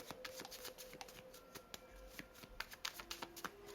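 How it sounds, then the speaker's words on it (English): Someone shuffles a deck of slick playing cards by hand, close and quiet, making repeated riffling bursts and soft flicks with light hand rustling over several seconds. "It's a little easier to shuffle these cards because they're really slick."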